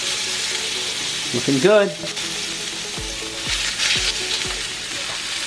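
Seasoned pork tenderloin pieces sear in a hot pan with a steady close sizzle, a short spoken remark and a few soft knocks from the pan partway through.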